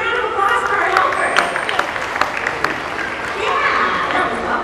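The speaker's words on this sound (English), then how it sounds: "Audience, big round of applause for our helper." An aquarium audience gives a round of applause for a helper, with scattered claps and crowd murmur sustained throughout, accompanied by talking.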